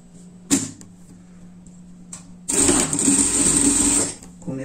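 A sewing machine stitches the underarm seam of a wool pet sweater: a short burst, then a steady whirring run of about a second and a half, close and fairly loud with a faint background hum.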